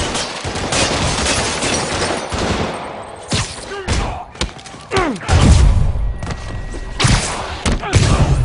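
Rapid gunfire and heavy thumps in Marvel's Spider-Man Remastered on PC as thugs open fire during a safe robbery, bursts of shots cracking loudly in clusters over dense game effects and score, with scattered shouts.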